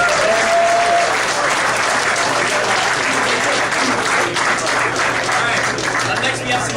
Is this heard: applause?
yes